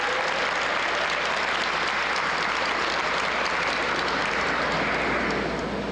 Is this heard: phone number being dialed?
no